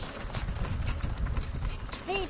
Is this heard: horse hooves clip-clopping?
yes